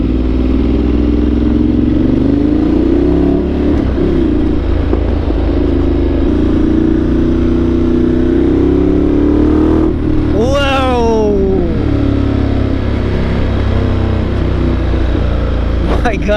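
A Ducati 1200 Multistrada Enduro motorcycle engine drones loudly and steadily throughout, then revs sharply upward and falls back near the end, with speech running over the engine.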